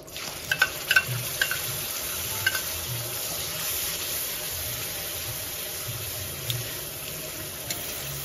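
Spice paste frying in hot oil, a dense continuous sizzle with brief clinks and scraping strokes of stirring near the start, no talk.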